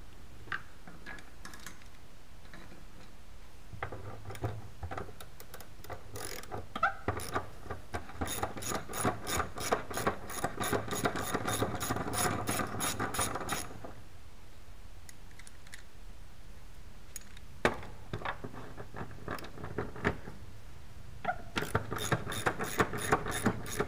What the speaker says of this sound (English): remove the securing nuts for the assembly